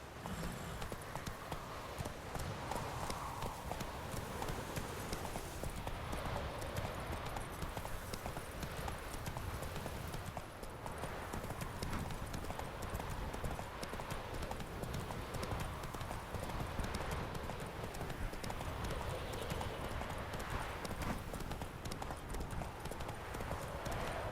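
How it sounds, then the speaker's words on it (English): Horse hooves clip-clop steadily in The Witcher 3 video game, a continuous quiet trotting rhythm over a dense background bed. "Whoa there, Roach."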